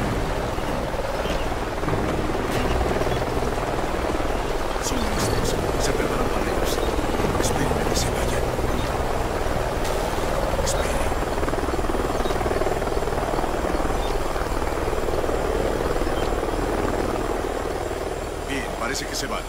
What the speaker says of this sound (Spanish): Parece un helicóptero por delante.